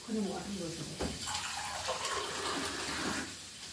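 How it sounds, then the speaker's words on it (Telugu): Water pours into a pan of fish curry in a continuous splashing stream, close and fairly soft, with a voice speaking faintly under it at the start. "నేను కొన్ని వాటర్ పోయాలనుకుంటున్నాను, కొన్ని వాటర్ పోసాను."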